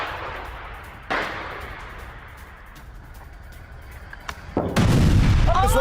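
Heavy booming blasts from an attack in Gaza, one sharp report early on followed by a louder, sustained roaring explosion near the end, with quieter rumbling between them.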